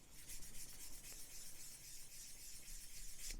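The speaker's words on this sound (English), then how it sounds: "And then with the sand and sponge we can come in" A sanding sponge buffs a plastic model kit of a Revell Lockheed Ventura PV-1, giving a soft continuous hiss of abrasion close up with no talking.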